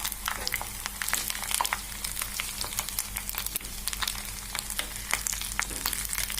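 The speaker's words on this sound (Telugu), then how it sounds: "ఇప్పుడు దీంట్లోకి మనము మందార పూలు వేసుకుంటాము" Hibiscus flowers dropped into hot oil for a hair-care preparation, giving a steady close sizzle and frying crackle with fine popping throughout, fairly soft, with no talking.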